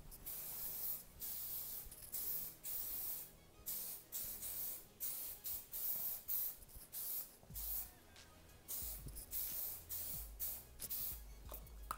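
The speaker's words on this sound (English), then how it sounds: "I'm just going to spray a little bit in to kind of give it a little extra hold" Repeated bursts of aerosol spray hiss close by, short and long puffs in an irregular rhythm with brief pauses and some low handling thumps.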